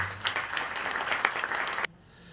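Conference audience applauding at a propolis event, a dense wash of many hands clapping that holds steady for almost two seconds and then cuts off abruptly to a quiet room.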